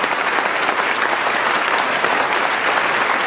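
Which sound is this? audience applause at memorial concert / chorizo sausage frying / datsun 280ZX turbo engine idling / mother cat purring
audience applause at memorial concert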